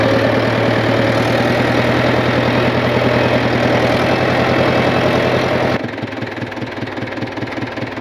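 A tractor engine runs loud and close in first gear with a steady, rapid chugging, then drops to a lower, softer idle rhythm near the end.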